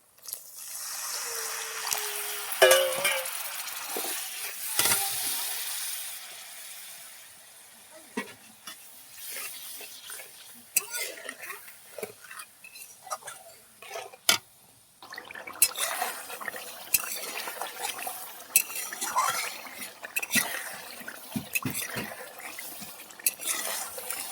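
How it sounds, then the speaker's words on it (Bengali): A little water splashes onto spices frying in oil in a pan, loud hiss and sputter at first, then softer crackling and clinks of stirring utensils. "মশলা কষাবার তার অল্প একটু পানি দিয়ে দেবো"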